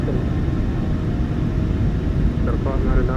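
Boeing 737-800 engines at takeoff power in a flight simulator, a steady loud roar and rumble throughout, with faint rising tones near the end.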